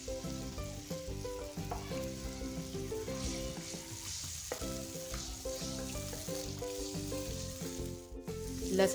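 Steady sizzling of garlic ginger paste frying in hot oil for beef karahi, continuous and close, with occasional stirring scrapes and no talking.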